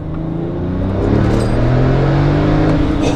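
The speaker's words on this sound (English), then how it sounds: "when those turbos spool up, wow, that is an exciting feeling" A 997-generation Porsche Turbo accelerates hard, its engine rising into a loud, sustained rumbling surge as the turbos spool up, steady and close from about one second onward with no talk.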